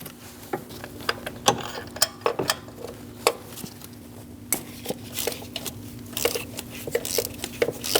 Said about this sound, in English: Using a 16mm socket, we're going to remove the spark plug.